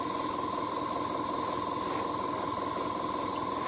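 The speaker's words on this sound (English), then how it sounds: "You see I'm spraying" Airbrush spraying paint onto the interior of a 1:48 Eduard Hellcat Mk.I model, a steady continuous hiss of air with a faint constant tone underneath, close and unbroken throughout.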